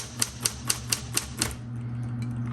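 A 1960s Smith Corona Coronet Automatic 12 typewriter being operated: six crisp, evenly spaced key strikes clack close by, then stop, leaving a low steady hum.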